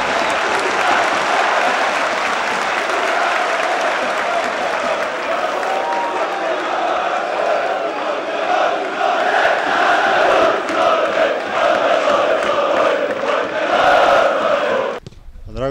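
Football supporters roar and applaud from the stands at a Bosnian cup final, a dense, loud crowd wash sustained for about fifteen seconds with chant-like swells before cutting off abruptly.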